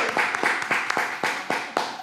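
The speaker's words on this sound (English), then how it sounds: "Clap it up for that" Clapping for a podcast episode's opening: a handful of distinct, fairly close hand claps in an uneven rhythm, roughly eight or nine over two seconds, from a small group rather than a big crowd.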